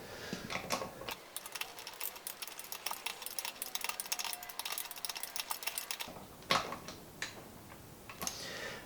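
Clicks and ticks from a $30 AutoZone torque wrench as it tightens the fork clamp bolts on a 2014 KTM 300 XC-W dirt bike, a close, steady run of sharp taps with short pauses and no talking.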